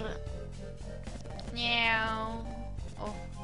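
A cat's meow from the Golden Sun video game, a single drawn-out cry with a rising and falling pitch. It plays over game music and sounds clear and moderately loud, with someone speaking German nearby.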